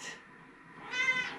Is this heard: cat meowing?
yes